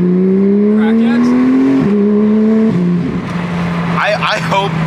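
A Porsche 991 GT3 with a GMG exhaust holds a steady rev, stepping through a couple of held engine pitches, loud and close, then settles to idle as voices break in.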